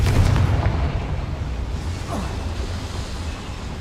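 Confringo fire spell explosion in the Hogwarts Legacy video game: a dense, rumbling blast with a whooshing burst that fills the short clip without fading.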